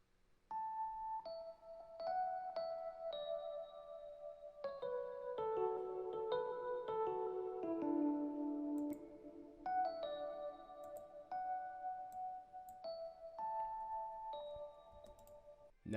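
A Rhodes Classic electric piano from the Keyscape library plays alone, with soft, bell-like chords and single notes in a slow, unhurried melody, clean and moderately quiet.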